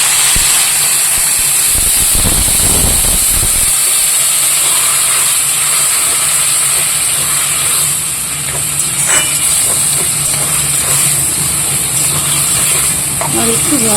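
Water poured into a hot cooking pan of leafy greens, a loud steady hiss and sizzle throughout, with a low bubbling rumble at the start that fades and faint stirring clinks later.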